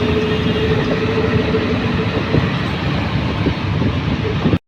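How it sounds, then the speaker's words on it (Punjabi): A train rolls across a rail bridge spanning a river, its steady dense rumble holding at a constant loud level for several seconds before cutting off abruptly. "ਉੱਪਰ ਟ੍ਰੇਨ ਜਾਂਦੀ ਹੈਗੀ ਪੁਲ ਬਣਾਇਆ ਹੋਇਆ"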